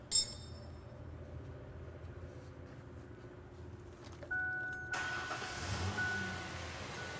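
A car engine is started during a transmission fluid service: a faint clink at first, then after a quiet stretch the engine catches and settles into a low, steady idle.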